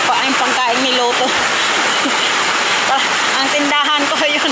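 Sudden heavy downpour during flooding, loud dense rain hissing constantly close by, with people talking and calling out over the roar.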